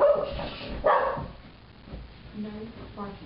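A dog barks a few times near the start, and a person speaks over and after the barks.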